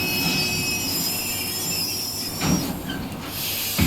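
A train in Red Dead Redemption 2 brakes toward a stop, its wheels squealing with high metallic tones over a loud, continuous rumble and hiss.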